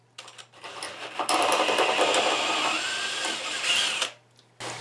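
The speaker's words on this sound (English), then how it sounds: "now I'm going to chase it with a number 10 drill so that I can tap this" A power drill with a number 10 bit runs steadily for about three seconds, chasing a pilot hole ahead of tapping during assembly of a harp box, close with a whining motor, starting and stopping abruptly.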